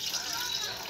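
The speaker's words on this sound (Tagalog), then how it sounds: "Didiligan. Ayan, ang dilig." Water poured over sprouting bean sprouts (togue), a brief steady splashing gush close by, heard alone for about a second.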